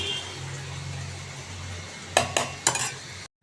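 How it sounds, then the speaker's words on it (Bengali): A spatula stirs capsicum frying in a pan, a soft steady sizzle running underneath before three quick metallic scrapes and clinks against the pan near the end, then silence. "নাড়িয়ে দিই এবার একদম সেদ্ধ হয়ে গেছে ক্যাপসিকামগুলো"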